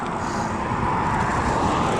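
A car carrying a bike in the back drives past on a highway, a steady, loud roar of road and engine noise with no clear rise or fade.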